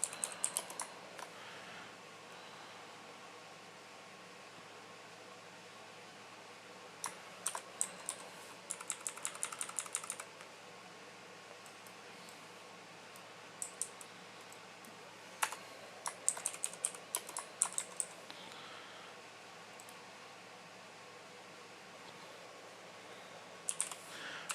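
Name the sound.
typing on a computer keyboard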